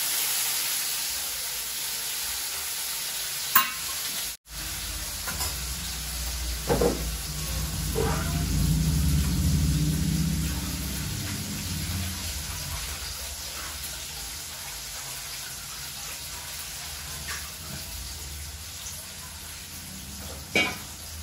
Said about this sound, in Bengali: এদিকে আমি এটা ভেজে নিই